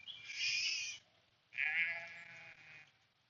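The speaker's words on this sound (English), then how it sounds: "That's a bird." A bird calls outdoors with an odd, unsongbird-like voice: two drawn-out, harsh bleating cries, the second following a short pause, fairly loud and close against faint background noise.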